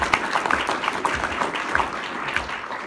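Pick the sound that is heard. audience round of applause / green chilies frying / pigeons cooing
audience round of applause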